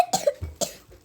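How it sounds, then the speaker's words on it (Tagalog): Two sharp coughs about half a second apart, close and fairly loud, with a short throat-clearing rumble between them and a faint trailing breath. "Sorry lang po, inuubo po kasi ako."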